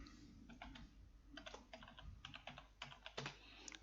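Fingers type on a computer keyboard, entering commands while configuring DNS on Windows Server 2019 Core, with close, quiet clusters of quick key taps in irregular bursts.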